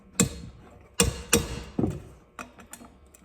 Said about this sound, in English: So that noise is from a rusted bolt being tightened